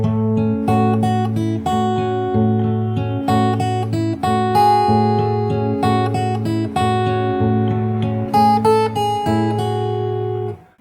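Close, clear fingerstyle acoustic guitar plays a steady picked pattern from a song, a repeating bass note under arpeggiated upper strings and brighter melody notes, continuous for about eleven seconds without talk.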